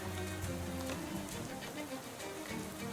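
Steady rain falls in the video game Shadows Over Loathing as a constant hiss with soft patter, mixed with low sustained musical tones and a faint buzzing layer, holding an even level throughout.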